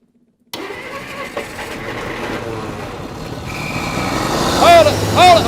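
A car engine that sat unused for 30 years cranks and catches after a moment of quiet, then runs roughly and builds louder, with some squealing toward the end.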